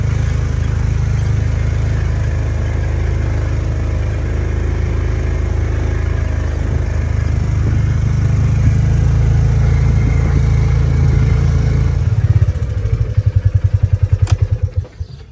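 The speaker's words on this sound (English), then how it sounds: "I'm taking my side-by-side over" A side-by-side utility vehicle drives along with a steady, loud low engine rumble and clatter, close by, building toward a rougher pulsing throb near the end.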